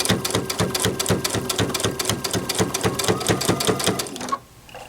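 A sewing machine runs steadily, stitching heavily sized fabric that makes it louder than usual, with a fast, even clatter of needle strokes that stops abruptly near the end.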